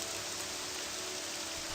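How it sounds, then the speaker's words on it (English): Steady rain falling in the video game Morrowind, a continuous broadband hiss of drops on surfaces with no talk, even and unbroken throughout. "Oh, of course it's raining."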